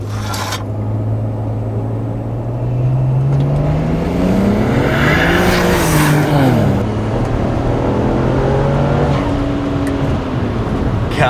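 A BMW 335i with a struggling transmission drives past in a flyby, a steady engine drone that swells and climbs in pitch as the car nears, peaks loudly mid-pass, then drops away and fades as it moves off.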